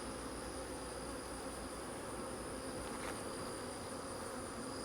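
Honeybees buzzing around a beehive frame during a hive merge, a faint, steady, dense hum with no talking.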